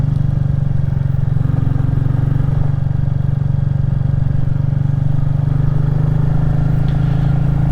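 A Royal Enfield Classic 350 single-cylinder motorcycle thrums steadily while riding on a country road loop, a loud, close, even low engine drone with faint clatter.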